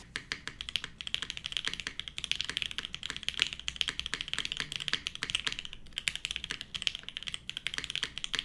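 Steady, rapid typing on a mechanical keyboard, crisp clacky keystrokes in a continuous rhythm, close up with no talking.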